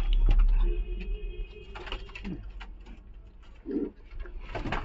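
Giribaz pigeons in a loft give several distinct low coos, with a louder burst near the end, over light clicking and shuffling in the background.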